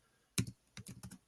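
Several quick keystrokes on a computer keyboard as terminal commands are entered to create files for a simple to-do web app: one sharp tap, a short pause, then a loose cluster of clicks, close and fairly quiet.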